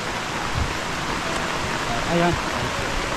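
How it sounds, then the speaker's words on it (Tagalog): Rain falling at a house under construction, a steady hiss of drizzle on surfaces throughout, with a brief voice speaking near the end. "Ulan."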